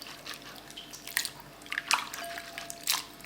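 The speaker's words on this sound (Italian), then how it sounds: "la sciacquo bene sotto l'acqua 2-3 volte" Raisins are rinsed under running water in a kitchen while preparing strudel filling, with soft watery splashes, squishes and drips at a quiet, close level.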